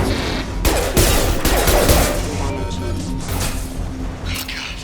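Gunfire from hostile mechs in the game Mass Effect 2, with loud bursts of shots, crashes and mechanical clatter over the first two seconds, then quieter rattling under speech.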